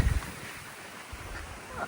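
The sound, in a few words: strong wind gusts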